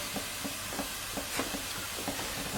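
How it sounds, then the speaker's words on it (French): Garlic and onion sautéing in a pan for a mussel sauce, a quiet continuous sizzle broken by soft rhythmic stirring scrapes about every third of a second, with no one speaking. "vous faites revenir de l'ail"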